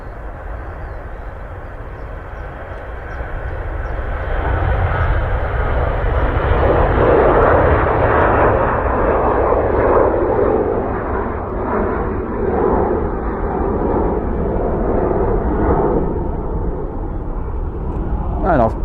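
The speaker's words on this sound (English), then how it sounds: "that's a great shot of that Jet 2 taking off." A Jet2 airliner takes off at Manchester Airport, its engines swelling into a loud, sustained roar that peaks mid-way and then slowly recedes into the distance, with no one talking over it.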